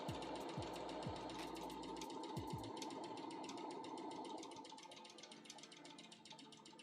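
A sewing machine stitches a seam on a cosplay costume in a steady, rapid mechanical rattle that runs on and softens toward the end, with a few low thumps early on.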